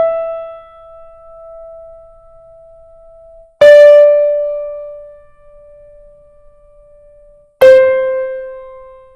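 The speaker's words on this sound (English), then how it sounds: "the duration of the count of semibreve is 4 counts, and it sounds like this." A single sustained pitched tone holds a semibreve's four counts, struck anew about every four seconds and decaying slowly between strikes, clear and alone.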